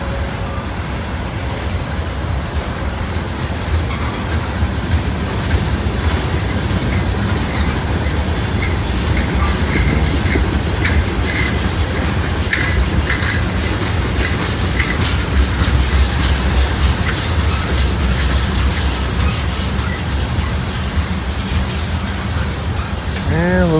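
Norfolk Southern and CSX freight trains roll past close to a rail yard, a loud, continuous rumble of wheels and cars with steady clickety-clack throughout, no pauses.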